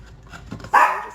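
A pet dog lets out a sharp, loud bark at a noisy kitchen machine, standing out clearly after a stretch of quiet, low household sound.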